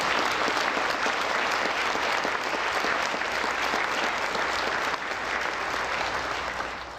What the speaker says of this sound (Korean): 같이 한번 뜨거운 박수로 쳤습니다